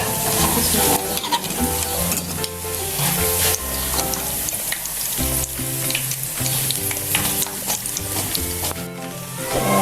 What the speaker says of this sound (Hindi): पकौड़े ब्राउन हो गए तो अब हम इनको निकालेंगे।